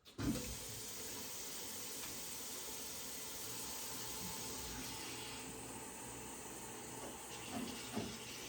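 Warm water running steadily from a tap in a soft continuous hiss, faint and even throughout, with a couple of small knocks near the start and end.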